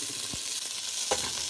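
Washed moong dal and rice are stirred in a hot pot, giving a steady sizzle with a few soft scraping strokes, close and alone.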